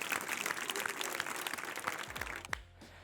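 A home boxing workout group claps, giving a dense burst of applause that fades out toward the end with a brief voice after it.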